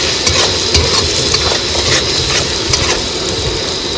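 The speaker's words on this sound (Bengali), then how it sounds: "ধনের গুঁড়ো জিরার গুঁড়ো এবার মশলাটাকে সুন্দর করে কষিয়ে নেব" Spice paste with coriander and cumin powder sizzles steadily in a pan as it is stirred, a continuous close frying hiss with scraping taps of the spoon and no talking.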